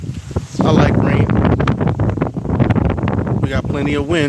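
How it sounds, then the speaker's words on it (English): Gusts of wind buffet the microphone with low rumbling bursts in a garden after rain while someone talks over them. "We got plenty of wind, so pardon me if it gets too windy and you can't hear"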